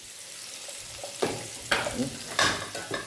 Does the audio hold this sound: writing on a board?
no